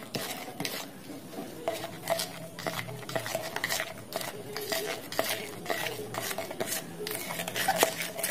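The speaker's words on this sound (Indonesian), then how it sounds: "Nah kemudian kita aduk yang ini teman-teman. Ini sampai homogen ya untuk pengadukannya." Car shampoo mixture being stirred until smooth, a steady run of close scraping and clinking as a utensil works around the container, with rhythmic rubbing strokes throughout.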